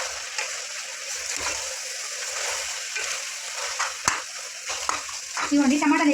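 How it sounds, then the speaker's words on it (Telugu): Tomatoes dropped into a pan of sizzling Andhra-style goat head curry, with steady frying hiss, stirring and a sharp clatter, and a brief bubbling near the end. "ఇప్పుడు టమాటా వేస్తున్నాను నేను"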